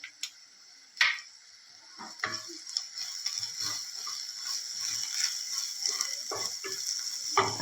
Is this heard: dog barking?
no